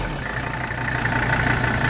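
A 1983 Mercedes 300D diesel engine idles steadily and smoothly at close range, a continuous even rumble with no voices over it.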